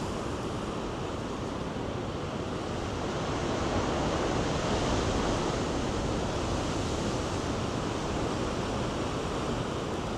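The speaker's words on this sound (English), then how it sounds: "hypnotic and calming about the waves, especially when you're on the shore looking out" Continuous roar of ocean surf at Cape Spear, Newfoundland, waves washing and breaking on the shore in a steady wash of noise, swelling slightly midway, with no voices.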